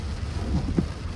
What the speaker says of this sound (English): it's unfortunate that it's raining